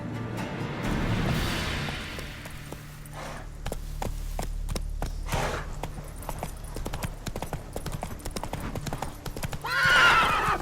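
A horse in the video game The Witcher 3 trots and gallops with steady rhythmic hoofbeats, a whinny at the start and another near the end, close and clear, with occasional low speech.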